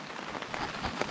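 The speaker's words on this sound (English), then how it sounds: "So we're just going to wait out the rain and hopefully it'll stop" Rain falls on tents and their fly at a hunting camp, a steady hissing wash with scattered louder drops pattering nearby, with no voices.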